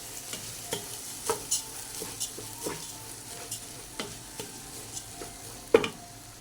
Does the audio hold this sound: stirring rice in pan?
yes